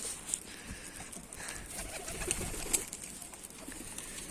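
Soft pigeon cooing from birds on a rooftop rises faintly from a steady, rushing outdoor background, with no voices present.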